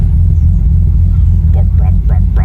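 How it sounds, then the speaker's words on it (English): A BMW engine with a failed head gasket idles roughly, a loud, close, low rumble with an uneven, lumpy pulse. A voice comes in faintly toward the end. "So hear how lumpy that idle is."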